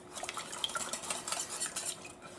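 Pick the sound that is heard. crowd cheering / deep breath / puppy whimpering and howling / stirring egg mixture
stirring egg mixture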